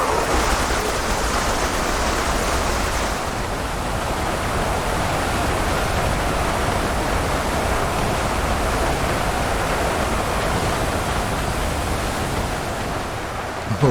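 Massed arrow volleys in the battle game UEBS 2 form a constant, dense, waterfall-like roar, loud and unbroken throughout with no voices.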